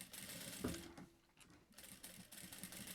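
Sewing machine stitching a child's fanny pack, running slowly around a curve with a soft mechanical whir and faint ticking, quiet and close.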